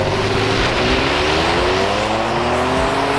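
Pickup truck pulling off and driving past at about 45 mph, a loud, steady engine roar with gear-climbing pitch and road rumble, close by the whole time with no talking.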